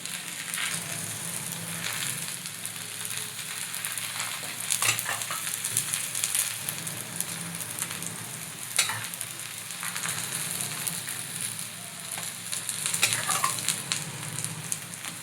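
Cabbage dhapate frying in oil on a pan, a steady close sizzle and crackle with occasional scraping stirs, no talk over it.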